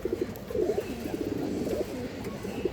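Soft, repeated cooing from black-winged silver pigeons in low throaty bursts, fairly close, continuing steadily over a faint background hum.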